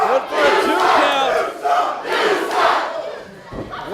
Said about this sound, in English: Listen to this crowd getting all over Kevin Morgan.